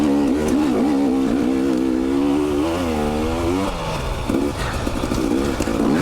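Motorcycle ridden along a rooty single track in Utah, engine loud and close throughout, pitch rising and falling as gears change and the rider brakes, with a dip in revs around the midpoint before pulling again.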